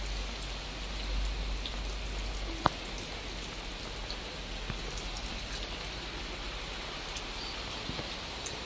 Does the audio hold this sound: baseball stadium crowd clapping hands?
no